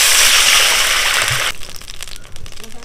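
Water poured into a hot pan of fried chillies and curry leaves: a loud rushing, hissing burst that cuts off sharply, leaving quieter bubbling and sloshing.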